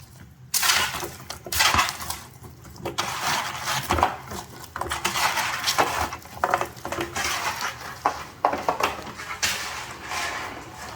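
Roasted asparagus with soy sauce is tossed and mixed in a pan, making busy clattering metallic scrapes and clinks that come in uneven bursts, close and fairly loud.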